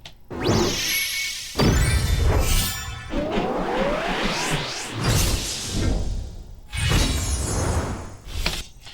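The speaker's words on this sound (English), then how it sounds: "Over here we've got the big kind of like sword slash moment." A layered sword-slash sound effect: sharp whooshes and metallic swishes, crashing impacts and ringing sweeps, loud and dense, in several bursts.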